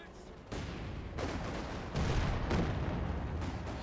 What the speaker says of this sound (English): EX being blasted here by the British Comet tank here.